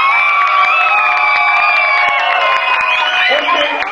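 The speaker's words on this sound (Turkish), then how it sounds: "Keşan için bir alkış verin." An audience at a beatbox battle cheers and whoops for beatboxer Keşan with shouting voices and scattered clapping, loud and close, with a sustained crowd roar.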